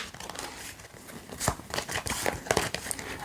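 A deck of yes-or-no oracle cards being shuffled close up: a run of quick, crisp papery riffles and soft flutters, with no talking.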